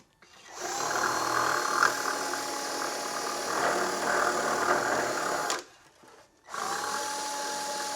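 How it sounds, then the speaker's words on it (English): A power drill bores a hole in a metal bracket for a remote spin-on oil filter on a Porsche 911 under restoration, a steady close whine that runs about five seconds, stops briefly, then starts again. "I'm going to drill that hole at 14"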